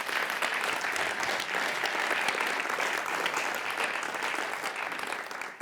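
An awards audience at the Amsterdam Science & Innovation Awards claps loudly and steadily throughout, a dense sustained wash of applause with no break.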